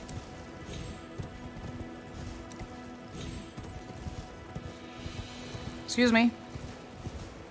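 In the video game Elden Ring, the spectral steed Torrent's hoofbeats clop softly at a steady pace under a player's speech, with a brief neigh-like cry near the end.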